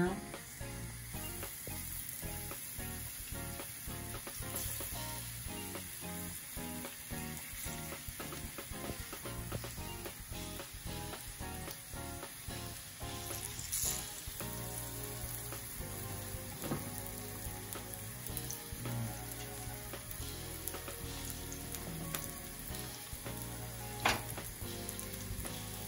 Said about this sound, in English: we're just going to fry off some of the plantain